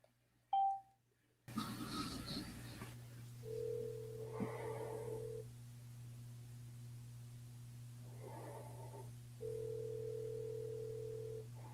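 An outgoing phone call ringback tone sounds in repeated long beeps with pauses between, over a steady low hum, with a brief beep before the line opens.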